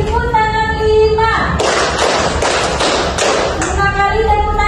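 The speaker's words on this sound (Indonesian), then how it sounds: "5 kali tepuk tangan 5." Children in a classroom clap their hands together in a burst of dense, overlapping claps lasting about two seconds, with a teacher's voice speaking before and after.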